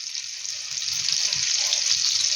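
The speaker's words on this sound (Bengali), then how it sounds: "আমি এবারে বাটার আর তেল অ্যাড করে ফ্রাইং প্যানটা গরম হওয়ার পরে কাবাবগুলো ছেড়ে দিয়েছি।" Kebabs frying in a hot pan of butter and oil, giving a steady bright sizzle that swells slightly louder partway through, with faint low clatter underneath and no talking.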